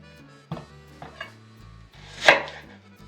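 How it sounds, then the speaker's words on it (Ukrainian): A knife chops onion in a kitchen with a few separate cuts on a board, one louder stroke near the end, close and fairly quiet with low background hum and no talking. "Нарізаємо цибулю."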